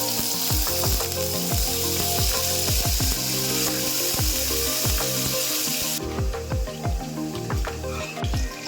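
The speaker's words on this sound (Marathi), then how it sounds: "कढईमध्ये तेल टाकून घ्यायचं आहे आणि त्यामध्ये आपण जे बटाटे कापून घेतलेले आहे ते टाकून घ्यायचे आहे" Steady sizzling of cut potatoes frying in hot oil in a kadhai, with repeated scraping and stirring knocks against the pan.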